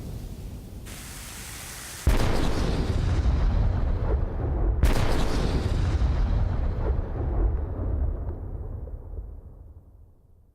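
Cannon fire as a sound effect: a booming blast hits, then a second sharp shot follows a few seconds later, each leaving a long rumbling decay that slowly fades out.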